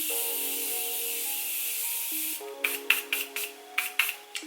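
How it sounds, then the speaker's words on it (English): A steady hum gives way to several quick hissing spritzes from a makeup setting spray mist bottle, fired in short bursts close by. "I'm actually going to be using the Morphe Continuous Setting Mist."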